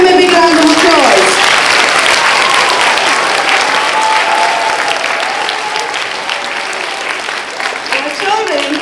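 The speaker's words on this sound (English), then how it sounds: "give them a big round of applause" Sustained applause from a school audience at a primary school's 70th birthday celebration, loud and close, rolling continuously and tapering gently over about nine seconds, with a voice heard briefly at the start.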